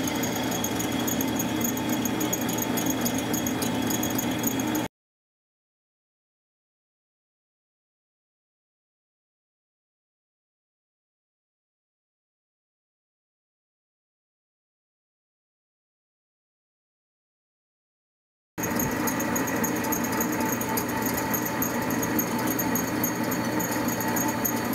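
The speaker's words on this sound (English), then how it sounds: "I've got half of the part sawed out, and we are starting on the second half right now." A steel flange part for a steam locomotive's steam pipe being slowly sawed out: a steady, grinding cutting noise that runs for several seconds, drops to complete silence, then resumes just as loud.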